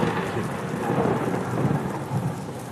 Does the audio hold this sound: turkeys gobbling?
no